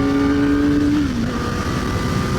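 A 2023 Kawasaki ZX-4RR motorcycle's engine drones steadily at close range while riding, a strong sustained tone that drops in pitch partway through as revs fall, with no talk over it.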